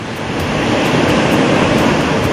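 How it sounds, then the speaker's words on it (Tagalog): Loud, steady rushing of a strong river current, a continuous dense roar with no pauses and no voices. "Ang malakas na agos ng tubig sa ilog"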